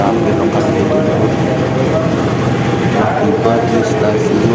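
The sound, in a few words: Jatiluhur local passenger train running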